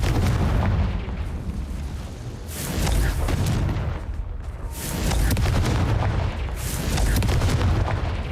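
Confringo fire-blast spells cast in a video game, bursting as repeated heavy booming explosions that swell and roll away in waves, loud and close, with no talking.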